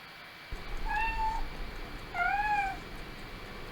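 A kitten meows twice, small and high-pitched, with a pause between the calls over a faint steady background hum.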